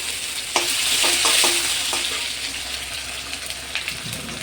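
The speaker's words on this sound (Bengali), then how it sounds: "দিলাম টমেটো, কেটে টুকরো করে রাখা টমেটো" Chopped tomatoes hit hot oil with cumin in a home kitchen pan, giving a loud steady sizzle with a few clinking stirs of a spoon near the start, alone without talk.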